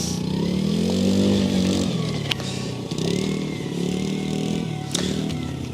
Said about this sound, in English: Neighbors riding a bike.